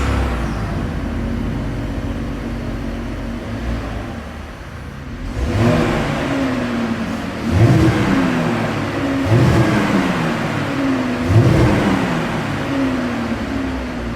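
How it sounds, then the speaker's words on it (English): A 2020 Chevrolet Impala LT with dual exhaust idles steadily, then revs up in several rising and falling bursts, loud and close from the exhaust. "here is that exhaust clip"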